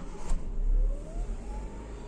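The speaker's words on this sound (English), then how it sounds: "Let me start the car." A Honda City's engine turns over and catches, a brief starter crank followed by a mid-pitched idle that rises slightly, heard up close and alone.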